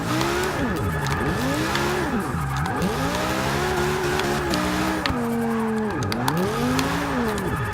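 A 2005 BMW M3 with an all-wheel-drive drift build in the Forza 6 racing game, its engine note sweeping up and down through repeated revs while tires squeal continuously, loud and close.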